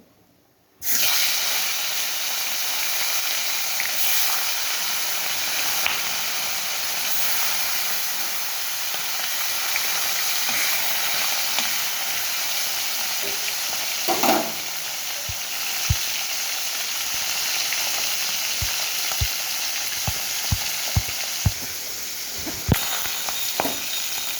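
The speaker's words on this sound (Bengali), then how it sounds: "এবারে মাছগুলোকে ভেজে নেবো" Steady, loud sizzling of fish frying in hot oil, a continuous hiss with occasional crackles and pops, no voices.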